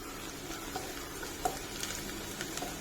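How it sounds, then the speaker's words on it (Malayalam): Onions and netholi anchovies frying in a pan for a Kerala dish, a steady soft sizzle with faint occasional stirring taps, fairly quiet and close. "നത്തലിലെ വെള്ളമെല്ലാം വറ്റി നല്ല ഫ്രൈ ആയിട്ടുണ്ട്."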